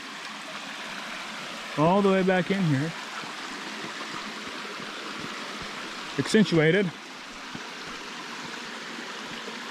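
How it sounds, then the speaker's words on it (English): A stream runs down through mini waterfalls and small gravity rapids at Twin Falls Resort State Park, a steady rushing wash of water throughout, with someone speaking briefly over it twice. "So all this makes its way down little gravity rapids all the way down there"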